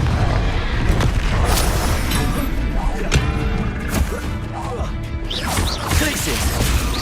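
Confringo spell blasts in Hogwarts Legacy burst amid dense combat noise, with heavy booms, crashes and thwacks layered over continuous loud action effects, and a voice talking over the fight.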